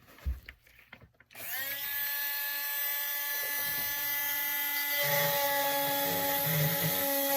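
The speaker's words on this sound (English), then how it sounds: "I'm going to trim this plastic" A round burr drill whines steadily at high pitch while trimming a clear plastic Essix retainer, starting after a few handling knocks and holding a loud, continuous tone with slight grinding as it bites the plastic.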